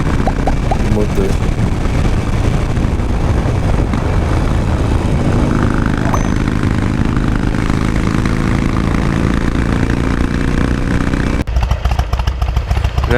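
Harley-Davidson motorcycle engine running steadily and loud up close, a continuous low throbbing rumble that changes character near the end, with no talk over it.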